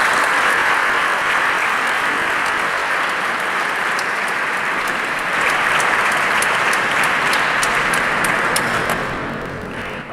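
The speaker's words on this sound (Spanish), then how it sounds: "vamos a recibirle con un fuerte aplauso" Audience at a talk in a Spanish-speaking venue applauding to welcome a speaker, dense sustained clapping throughout that swells midway and tapers off at the end, with no voices over it.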